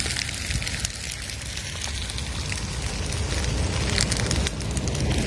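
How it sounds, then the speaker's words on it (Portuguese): Large wildfire burning through roadside vegetation along a highway in Minas Gerais, giving a steady, loud broadband roar with crackling texture and gusty wind noise throughout, no voices. "A parte perto da ETA tá pegando fogo lá para cima."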